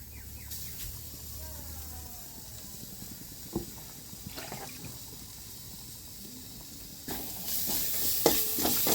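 Onions with crushed ginger and garlic sizzle in a pan for a mutton dish, a soft frying hiss broken by scraping stirs and clinks, growing louder toward the end with faint voices in the background.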